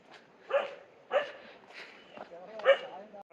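Dog barking near a house along an off-road trail to Maranatty Waterfalls in Kerala, several short barks spaced about half a second to a second apart, moderately distant and fairly faint against quiet surroundings.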